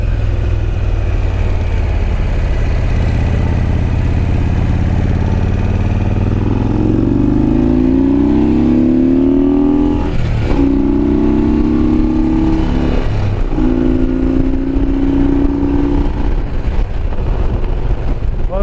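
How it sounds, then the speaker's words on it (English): A 2001 Harley-Davidson Road King V-twin pulls away and accelerates through several gears, its loud, close engine note rising in pitch with each gear and dipping at every shift, with wind rushing over the microphone. "Nothing like the torque that these Harley V twins make"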